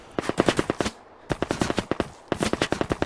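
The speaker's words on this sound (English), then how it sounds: "This way we can hear that bullet's impact on the sand." Bursts of rapid gunfire with bullet impacts on sand in the VR shooter H3VR, dense cracking shots in three quick volleys separated by brief pauses, fairly loud and close.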